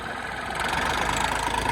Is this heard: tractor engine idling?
yes